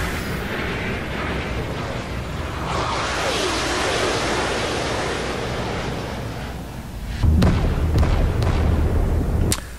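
A visual-effects explosion sound effect roars as a long, broad rumbling blast that swells and then sustains. A heavier booming burst follows near the end.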